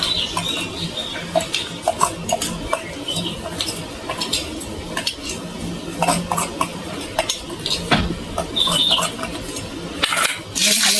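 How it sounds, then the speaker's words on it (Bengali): A spoon mixing ripe mango with chaat masala and chilli salt in a bowl, producing irregular wet squelches and light metallic scrapes and clinks at close range with a steady faint background hiss. "চামচের সাহায্যে মাখিয়ে নিচ্ছি।"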